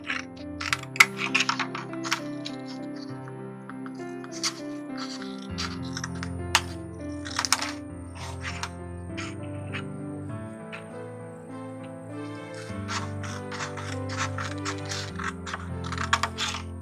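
Crisp, irregular snips and clicks of scissors cutting paper, close by, with short rustles between cuts and a faint tonal hum underneath.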